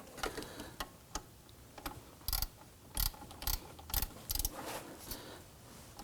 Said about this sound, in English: Now let's go ahead and tighten down the pulley bolt or the pulley nut.